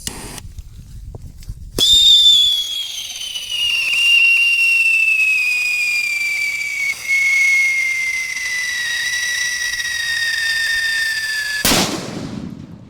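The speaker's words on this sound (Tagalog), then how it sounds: "ayos na kayo ng lakas ayun oh solid big whistle bomb natin yan" A big whistle bomb firework screeches in one long, loud descending whistle lasting about ten seconds, then ends in a sharp burst; no talking over it.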